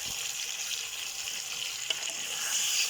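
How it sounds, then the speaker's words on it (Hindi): Goat trotters and bones frying with spices in a pot, a steady close sizzle with a faint stirring scrape and one sharp tick, swelling slightly at the end, with no voices. "अब आप लोगों ने इसको अच्छी तरह भूनना है।"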